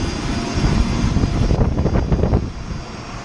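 A tractor-drawn phacelia seed drill with an offset wheel roller and fertiliser applicators runs steadily nearby on a spring field, a loud continuous engine drone with no talk.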